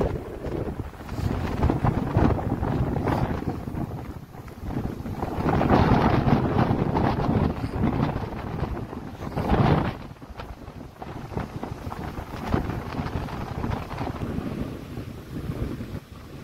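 Strong early-morning wind at Horsley Hills buffets the microphone in loud, roaring gusts that rise and fall continuously, with no voices.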